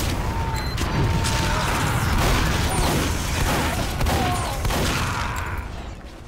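Shotgun gunfire crackles in rapid, dense bursts during video game combat, loud and continuous with booming impacts and mechanical clatter.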